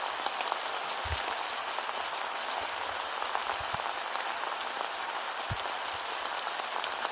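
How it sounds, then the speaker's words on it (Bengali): Mutton curry for khasir mangsho bubbles at a boil in a pot, a steady hissing simmer with soft pops and a few dull knocks as the meat is stirred, close by and without talk. "বলক এসে গেছে, এবার আমি খুব সুন্দরভাবে মাংসটা নাড়ব"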